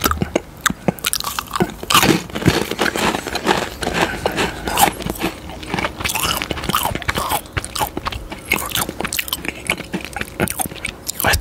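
Crisp, close-up crunching and chewing of Chinese swirl biscuits, with repeated bites and snaps in an irregular rhythm and no talking.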